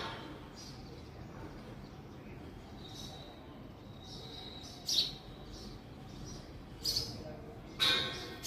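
Small birds and chicks chirping in a home garden, faint high tweets that come in short bursts over a quiet background, a few louder calls near the end.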